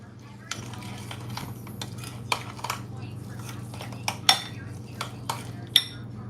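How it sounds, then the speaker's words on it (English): A spoon clinks and scrapes against a bowl while sauce for Mexican street corn chicken tacos is mixed together, with scattered sharp taps over a steady low kitchen hum. "So let's mix this all together."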